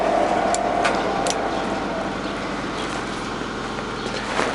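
A used Victor centre lathe from Taiwan, 400 x 1500 size, runs at a slow 60 RPM, giving a steady mechanical hum and low rhythmic gear chatter throughout, close and continuous with faint clicks and no voices.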